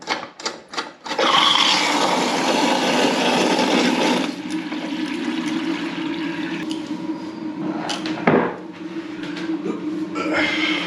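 A toilet cistern in a newly remodeled bathroom flushes with a loud rushing gush, then settles into a steady hiss and trickle as it refills, with a clunk partway through and a person talking intermittently over it.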